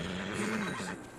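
A horse in Red Dead Redemption 2 gives a short, fairly faint whinny, a wavering neigh lasting about a second before fading out.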